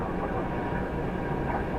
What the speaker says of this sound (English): 7879 Dreamliner coming in next